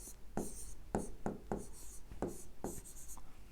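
A pen writes on paper while a geometry answer is worked out: quiet, close scratching strokes come in short, regular bursts with brief pauses between them.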